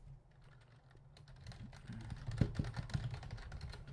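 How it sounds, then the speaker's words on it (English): Fingers type on a computer keyboard, a quick irregular clickety-clack of keystrokes that starts faint and grows busier and closer, with no one talking over it. "you can hear the keyboard. Does it annoy you guys? Does it annoy you, the keyboard, the clickety-clack keyboard?"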